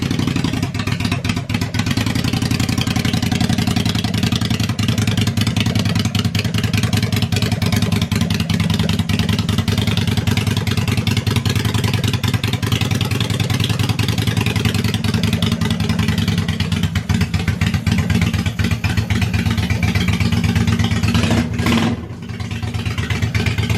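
A motorcycle with big-chamber, long exhaust pipes runs steadily with a deep, loud, rumbling engine note and a clattering idle throughout, briefly dipping near the end.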